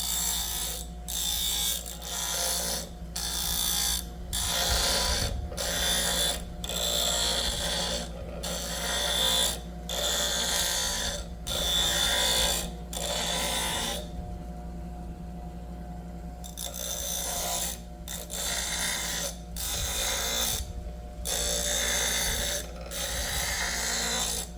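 A new single-speed benchtop grinder runs with a chisel held against it, giving a continuous quiet hum broken by bursts of gritty grinding contact that repeat roughly every second, plus one longer pause around the middle, with no talk.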